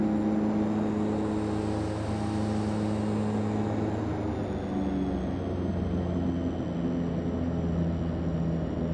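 DHC-6-300 Twin Otter twin turboprop engines droning in Flight Simulator X while flying in rain and hail to Nevis, a constant mid-loud hum with steady engine tones and a faint high whine that slowly shifts pitch, no talk.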